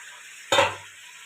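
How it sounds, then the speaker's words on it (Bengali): Potatoes dropped into a hot pan and sautéed for a shrimp and jackfruit curry give a sudden brief sizzle with a clatter of stirring. The sound then settles back to a quiet steady hiss. "এটা ভালো করে কষিয়ে নেব"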